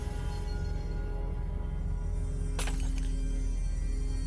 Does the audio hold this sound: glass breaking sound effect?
yes